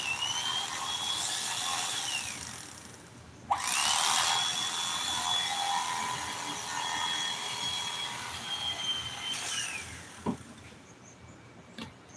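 A knife cuts through car seat foam during seat spring repair, giving two sustained rasping, tearing strokes of several seconds each, close and fairly steady, with a sharp snap near the end.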